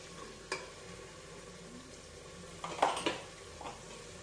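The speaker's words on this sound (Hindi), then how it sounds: "मैंने गैस का फ्लेम लो रखा है, लो फ्लेम पे मसालों को मैं भूनूंगी।" Spices roasting in a pan over a low gas flame, giving a faint, steady sizzle punctuated by a few distinct metallic scrapes and clinks of a spoon against the pan, close and quiet.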